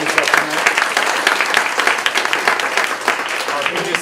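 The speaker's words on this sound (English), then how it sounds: "Let's give a big round of applause to our PTSA and our SAC for setting this up tonight." Audience applause at an evening high school mental health symposium, a lively patter of many hands clapping, fairly close and loud, with some voices blended underneath.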